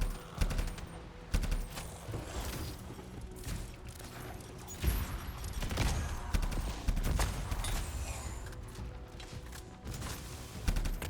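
Weapon gunfire in the Anthem video game, a sci-fi shooter: bursts of loud repeated shots with short gaps, heavy booming blasts mixed with mechanical clatter over continuous action noise.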